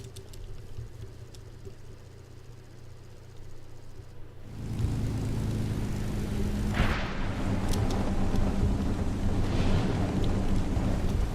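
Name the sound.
Merlin-engined propeller aircraft engines in War Thunder video game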